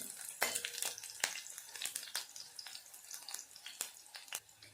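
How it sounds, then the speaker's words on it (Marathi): Green chillies crackle in hot oil over medium heat, a soft sizzle broken by sharp intermittent pops and scrapes of stirring, close and fairly quiet, with no voices. "मध्यम आचेवरती मी आता हिला छानपैकी तेलामध्ये भाजून घेते"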